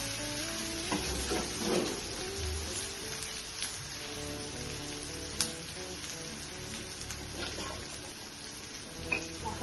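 Cashews and raisins added to a pan with green chillies, sizzling and frying for cholar dal, a steady moderate crackle with spoon stirring and a few sharper clinks.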